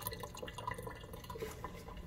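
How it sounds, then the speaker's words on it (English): Water trickles and drips steadily from the drip tray drain pipe of a DeLonghi La Specialista coffee machine into a sink, a close, continuous liquid patter with small splashy drops throughout. "Pipe's coming out the back, and the water's flowing down here."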